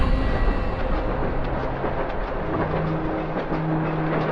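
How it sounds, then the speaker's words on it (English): A long freight train rumbles steadily across a huge rusty iron bridge in a city park in The Longest Journey, with dense clattering wheel noise that stays loud and continuous throughout. "Those freight trains pass by at least once every 5 minutes all day long."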